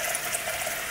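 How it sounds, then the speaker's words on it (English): Tap water runs steadily into a bowl, half filling it to soak glass noodles made from mung bean starch, a close, continuous splashing rush with no talk. "Half fill it with water"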